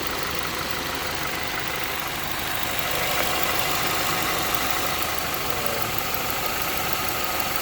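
A 2010 Ford Escape runs with the air-conditioning compressor engaged after a condenser replacement, giving a continuous, loud, even engine drone with broadband hiss and no pauses, heard close up.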